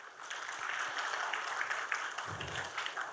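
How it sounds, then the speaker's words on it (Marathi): An indoor audience applauding to welcome a speaker, a soft, fairly distant patter of many hands clapping steadily for a few seconds with no voices. "तर त्यांचं आपण टाळ्या वाजवून स्वागत करावं."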